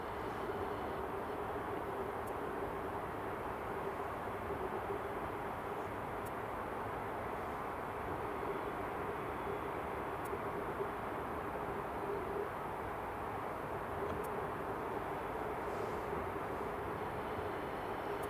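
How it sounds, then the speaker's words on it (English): A Delta Boeing 767 heavy jet departing Atlanta-bound from runway 24 at Edinburgh Airport, its takeoff a steady, fairly distant broadband roar that holds evenly throughout with no talk. "Delta 767 clear for takeoff"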